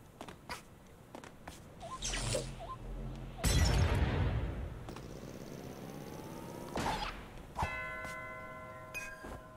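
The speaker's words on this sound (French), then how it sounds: "C'est des cloches qui permettent de marcher sur les blocs un peu transparents, regarde." Chiming bells in the platform game A Hat in Time, which let the player walk on translucent blocks. Bright, ringing tones come late, after crashing and clattering game effects.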